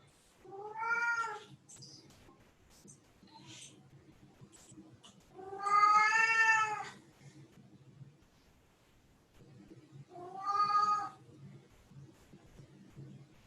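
A house cat meows and caterwauls in three long drawn-out wails spaced several seconds apart, close and loud, over a faint background murmur.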